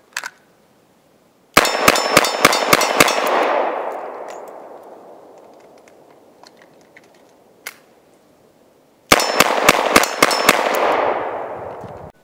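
Sharp, loud gunshots from a Smith & Wesson 686 revolver firing .38 Special rounds outdoors, in two rapid strings of about six shots each, every string trailing off in a long rolling echo, with one isolated shot between.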